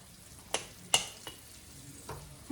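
Chicken strips sizzle in hot grease, a faint steady crackle broken by a few sharp spatters and a soft knock or two of utensils, no voices.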